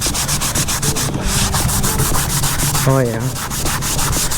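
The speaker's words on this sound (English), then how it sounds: "see what this scuffing pad does to it" A scuffing pad scrubs old coating off the interior of a 1993 GMC Sierra pickup, a loud, steady rhythmic rasp of back-and-forth strokes with a brief spoken interjection partway through.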